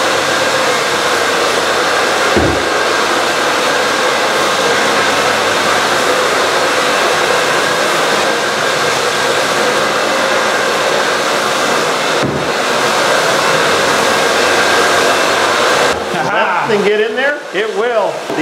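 A 10-inch CRB floor scrubbing machine cleaning the floor around a toilet, a loud steady motor whir that runs throughout, with a couple of brief knocks and a change in tone near the end.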